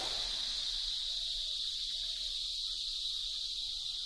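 A cicada in an Indian jungle droning its loud courtship song, a continuous intense buzzing hiss that holds steady throughout, close and unbroken, with faint low background sounds underneath.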